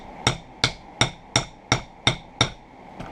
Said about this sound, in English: take the ball of my hammer